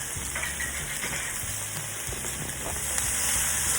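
Vegetables and cucumbers stir-fried in a pan over medium heat give a steady close sizzle and hiss, with soft scraping and tapping of stirring throughout and no talking.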